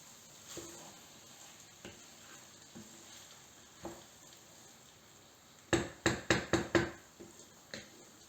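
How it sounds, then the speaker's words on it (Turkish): A filling for olive-oil stuffed cabbage rolls is sautéed in a pot, giving a low, steady sizzle with a few faint stirring clicks. Near the end, a quick run of five sharp knocks rings out, like a spoon tapping the pot's rim. "Ben sadece böyle kavuruyorum."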